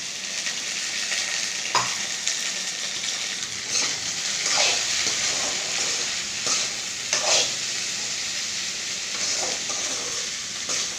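Okra sautéing in a little oil in a home kitchen pan, a continuous bright sizzle with intermittent scraping stirs of a spoon, close and steady.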